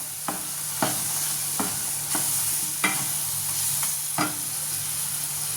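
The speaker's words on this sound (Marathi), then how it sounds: "हे छान असं परतून घ्यायचं आहे।" Green peas sautéing with turmeric, garam masala and red chilli powder in a pan, a steady close sizzle punctuated by a regular series of spatula scrapes and taps, about seven strokes, no voices.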